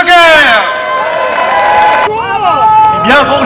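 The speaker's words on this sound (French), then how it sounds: "un tonnerre d'applaudissements pour Nicolas Stocker" A crowd at a street demonstration in Paris cheers and applauds loudly for a speaker, with whistles and sustained shouting over scattered clapping, swelling again near the end.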